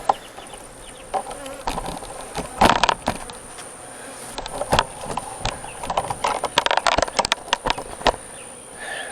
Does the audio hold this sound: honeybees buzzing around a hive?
yes